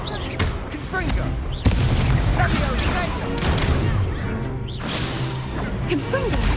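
Confringo fire spells blast repeatedly during combat in Hogwarts Legacy, with loud bursting impacts and whooshes in an irregular series amid busy battle noise, while a voice shouts over the action.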